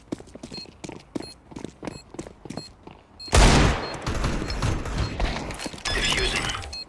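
Counter-Strike gunfire: a string of rapid clicks and taps gives way to a loud burst of shots and shattering, then sustained automatic fire with clatter over the last few seconds.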